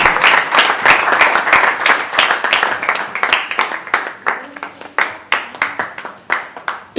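Audience applause after a Hindi stage play, a dense, loud burst of clapping that thins out into scattered individual claps toward the end.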